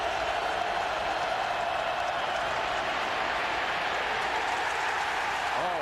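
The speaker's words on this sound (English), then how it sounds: "Listen to the crowd on 3rd down." Football stadium crowd at a 2007 Tennessee vs Arkansas college game roars steadily on third down, a dense, sustained wash of cheering and clapping throughout with no break.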